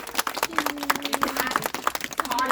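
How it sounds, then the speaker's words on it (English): An audience claps through a bird show in a dense, steady patter of many hands, with whistling tones weaving above the applause. "give them a round of applause"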